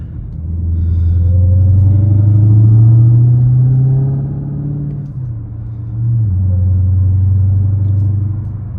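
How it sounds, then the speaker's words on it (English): A widebody Dodge Charger Hellcat, rated 717 horsepower, drones with a loud deep engine rumble whose pitch climbs and falls with throttle, easing briefly before swelling again, heard from inside the car with no talking. "let you guys hear the whine and everything"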